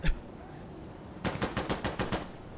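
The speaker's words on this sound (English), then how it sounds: "Alpha AK with the hunting scope" An AK rifle fitted with a hunting scope fires in a video game: a rapid burst of about seven sharp shots in an even rhythm, loud and close, after a short pause.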